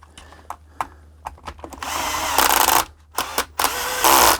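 A power drill drives screws into a hoverboard during repair, short taps and clicks followed by loud bursts of whirring motor in two main runs, close up with no talking.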